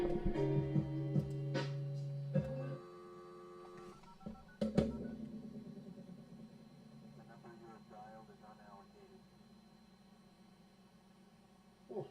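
Dial-up modem telephone dialing tones, a quick series of close, clipped beeps and tones, followed by a recorded network voice and quieter tones fading into near silence.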